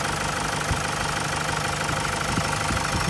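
A 2009 Toyota Hilux SRV automatic diesel engine idles steadily up close, a continuous low rumble with a faint knocking texture throughout and no voices.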